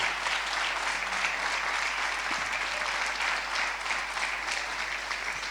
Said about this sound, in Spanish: Apláudale con ganas si le va a aplaudir al Señor